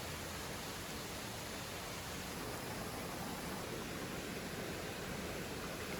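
Steady broadband rush of a small waterfall, about 12 meters high, and a clear cold stream on a forest trail in Japan, continuous and even, close and enveloping with no voices.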